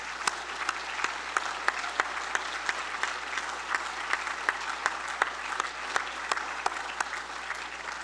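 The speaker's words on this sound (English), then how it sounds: "let's just have those 10 inductees stand up so we can applaud them one more time" An audience claps for Hall of Fame inductees at an awards ceremony, a dense, steady roll of applause with sharper individual claps standing out throughout.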